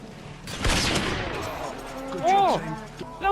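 Call of Duty video game gunfire during a trickshot: a loud burst of shots and a booming impact, followed by a rising and falling whoosh of game effects, dense and close.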